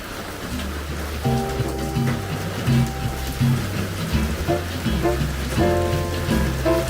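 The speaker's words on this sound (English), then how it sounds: "Wow, some rain." Rain falls steadily, drumming on a surface in a dense continuous patter, mixed with droning tones that come and go.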